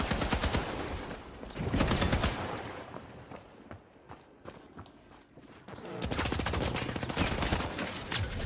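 Rapid bursts of M60 machine gun fire in the shooter game The Finals, dense loud rattling volleys at the start and again near the end, with a sparser lull of scattered shots and footsteps between them.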